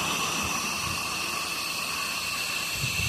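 Pressure washer spraying soap through an M5 downstream nozzle, a steady loud broadband hiss and roar with a faint tonal whine from the pump, continuous throughout with no talk.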